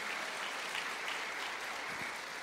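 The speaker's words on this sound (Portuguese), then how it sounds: "você pode aplaudir ao Senhor" A church congregation applauds at a missionary conference, a steady, dense wash of clapping filling the space with no talk over it.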